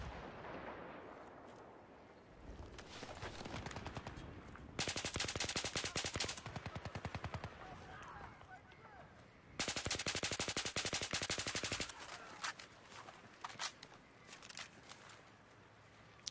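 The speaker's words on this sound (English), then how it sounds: "Just kind of trying to help my team put some bullets down there, just suppress them a little bit" Sustained automatic gunfire from Battlefield 3 multiplayer, long bursts of rapid shots fired to suppress enemies, loud and dense with brief gaps and scattered single shots between the heavier stretches.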